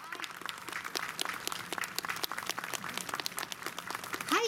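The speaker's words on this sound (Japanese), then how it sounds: "大きな拍手をお迎えください" Audience applause welcoming the Da Capo duo onto a special stage at a Sanomaru Day mascot event, a dense steady wash of many hands clapping at moderate distance, with a voice briefly audible near the end.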